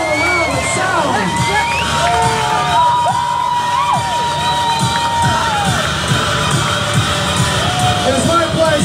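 A large crowd at Queen Mary's Dark Harbor slider show cheers and screams loudly and continuously, with high-pitched shouts and whoops rising over a dense roar.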